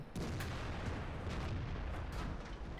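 A World of Tanks tank cannon firing: a sudden heavy boom followed by a rumbling low roll and scattered crackling tail, fairly faint and distant, no voices.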